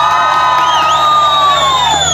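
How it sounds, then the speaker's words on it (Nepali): A comedy show crowd in Khotang cheers with loud, rising and falling whoops and shouts that carry over a constant background hum for a short burst. Distinct clapping is not evident. "ताली बजाउनुहोस्"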